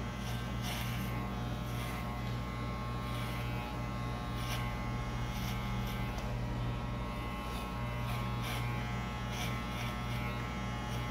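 An electric hair clipper cutting a low fade, braced on the barber's thumb, buzzing loudly and continuously up close with small ticks as it moves through the hair.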